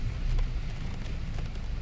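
Steady rain falls as a constant broadband hiss with a low rumble beneath, heavy weather heard without speech over it.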